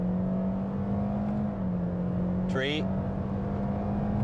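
A 2016 Scion iM accelerates at full throttle, its engine droning steadily and loudly from inside the cabin, with a voice briefly speaking partway through.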